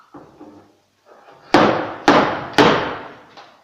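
A spot welder dent puller with a slide hammer works a dent out of a car body panel: soft clicks and scrapes, then three sharp metallic knocks about half a second apart, each ringing briefly.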